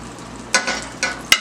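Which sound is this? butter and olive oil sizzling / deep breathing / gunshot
butter and olive oil sizzling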